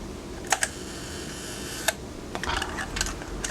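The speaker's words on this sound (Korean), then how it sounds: "카랑카랑한 셔터 소리 한번 들려드릴게요." Rolleiflex 3.5 twin-lens camera shutter firing on a one-second self-timer, a few crisp mechanical clicks followed by faint ticking, close and quiet.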